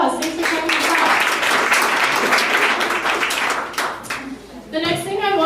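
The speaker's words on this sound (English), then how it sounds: "Let's give them a round of applause" Attendees at a team meeting give visiting speakers a round of applause, with brisk, close clapping from a small group that fades out before a voice begins talking.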